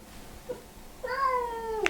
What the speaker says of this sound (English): If anybody is looking to inherit a clinically insane grey cat, do get in touch.